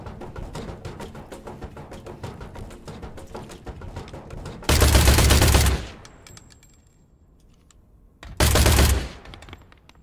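Robots fire guns in the sci-fi shooter game INDUSTRIA, rapid crackling bursts running through the first half, then two loud, dense volleys of automatic fire separated by a quieter pause.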